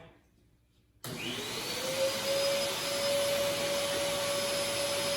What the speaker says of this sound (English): I'm gonna vacuum one more